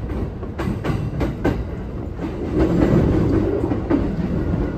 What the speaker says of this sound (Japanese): この電車は中央総武線各駅停車幕張行きです。